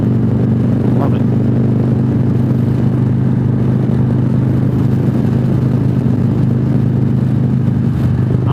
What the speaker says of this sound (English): That is riding the 2019 Harley-Davidson Freewheeler.